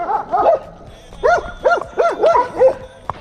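Several dogs bark and yip in quick, uneven bursts, loud and close, with high whiny tones between barks.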